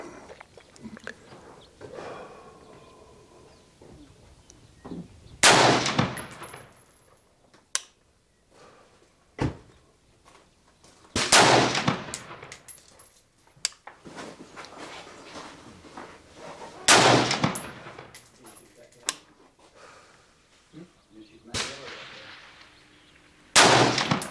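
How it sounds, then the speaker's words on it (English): A Boise Black Rifle 'Cheap Bastard' AR-style pistol with a 1:7 barrel fires 77-grain rounds at a range target. Four loud, sharp shots ring out about six seconds apart, with faint handling noises between them. "I'm going to shoot bottom left."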